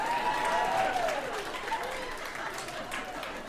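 A comedy show audience in New York claps and cheers loudly, a sustained wash of applause that fades somewhat after the first second.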